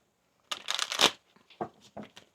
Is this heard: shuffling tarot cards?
yes